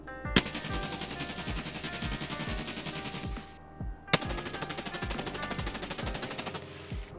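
SCAR-L and G36 rifles fire in Escape From Tarkov, two sustained full-auto bursts of rapid, evenly spaced shots, each lasting about three seconds with a brief gap between.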